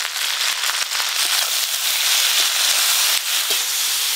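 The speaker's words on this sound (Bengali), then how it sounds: "সর্ষের তেল, তেল গরম হয়ে গেছে, এবার ভেন্ডিগুলো দিয়ে দেবো।" Okra dropped into hot mustard oil, loud close crackling and spitting with sharp pops over a dense sizzle, no talk.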